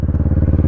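A Kawasaki Versys 650 motorcycle engine rumbles close by while riding, a brief, loud, evenly pulsing low drone.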